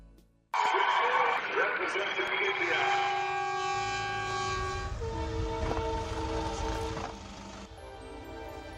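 A train passes loudly with a long horn blast, steady rumbling and sustained tonal ringing that fade toward the end, with no voices over it.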